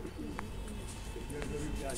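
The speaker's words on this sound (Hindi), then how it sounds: "ये नया नए कबूतर है गाइस" Pigeons on a rooftop loft coo softly in the background, low throaty calls repeating under someone talking nearby.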